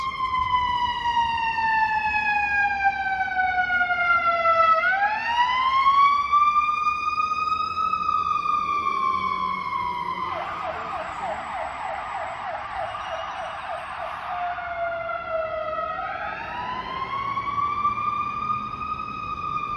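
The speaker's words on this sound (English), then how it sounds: "Oh, there's a fire truck coming in my direction." A fire truck siren wails loudly on a Toronto street, with long rising and falling sweeps that switch midway to a rapid yelping pattern before returning to the slow wail, close and continuous throughout.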